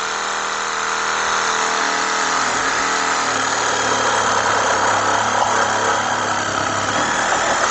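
Cordless reciprocating saw cutting a branch under load, with a continuous loud buzzing motor and dense vibration, steady and close for several seconds with no talk.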